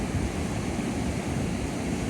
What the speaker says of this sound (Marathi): मग लाट जसा येतात तसं त्यांना उडी घालून पुढे जाऊची लागता.